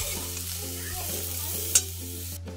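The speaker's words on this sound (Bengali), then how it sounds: "আস্তে আস্তে নাড়বো, জাস্ট 2 থেকে 3 মিনিট নাড়বো।" Ground cumin and turmeric fry in a hot pan as a spoon stirs them, close sizzling under repeated scraping strokes, with one sharp knock near the end.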